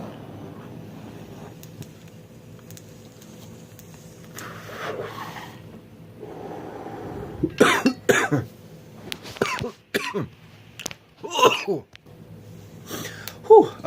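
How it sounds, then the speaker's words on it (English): A person coughs repeatedly in harsh bursts, several close together, after a quieter stretch with low background noise. "I was coughing so much"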